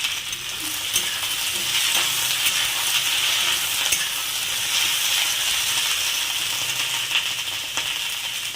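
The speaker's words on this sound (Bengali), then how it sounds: "কড়ার মধ্যে তেল দিয়ে ঢেঁড়সগুলো ভেজে নেব।" Okra fries in oil in a wok: a continuous, bright sizzle and hiss up close, with scattered stirring clinks, and no voices.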